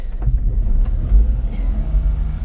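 A Daihatsu Hijet dump truck engine runs in low range, a close, steady low rumble with slight fluctuations and no clear revving.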